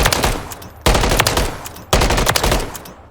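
A Remington ACR rifle firing in Call of Duty MWIII, three loud close bursts of rapid automatic gunfire, each about a second long and fading into echo before the next.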